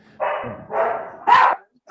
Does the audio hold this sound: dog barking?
yes